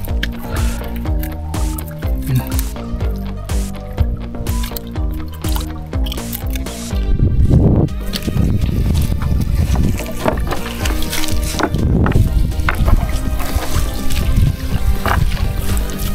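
Strong sea current at low tide slaps around a boat during night net fishing: loud, close sloshing, dripping and splashing water, with a droning tone in the first half.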